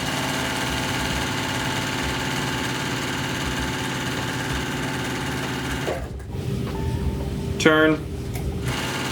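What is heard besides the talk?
sewing machine stitching around a fabric square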